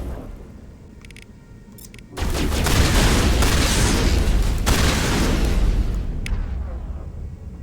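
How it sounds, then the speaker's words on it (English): Heavy gunfire strikes the player in Mass Effect, a sudden dense roar of shots and impacts that bursts in after a quieter opening and stays loud and sustained for several seconds. "we're getting shot from multiple sides here"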